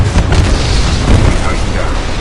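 Heavy weapon fire and explosions from a Titan in the video game Titanfall 2, a continuous loud rumbling barrage with booming low impacts throughout.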